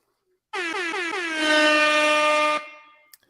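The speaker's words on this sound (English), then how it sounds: "Can I get an air horn for that?" A loud, sustained air horn blast sounds alone, dropped in as a sound effect during a college football recap show, swelling slightly midway before cutting off with a brief tail.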